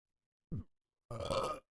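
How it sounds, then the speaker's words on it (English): A single loud, throaty burp rises and fades over about a second, following a short separate vocal sound just before it. "It sounds like a cream soda coffee burp."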